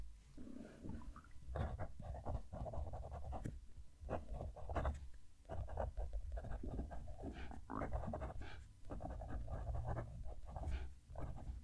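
A rollerball pen scratches across paper in short, rough strokes, close and quiet with brief pauses between bursts of writing.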